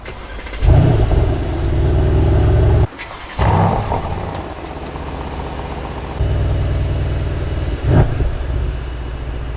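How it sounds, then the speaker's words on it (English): A 2020 Mercedes-AMG C63 S estate's V8 biturbo engine fires up with a loud burst, then settles into a deep idle broken by several sharp revs and a brief blip near the end, heard close with no talk. "So let's start the engine and we will listen to the sound."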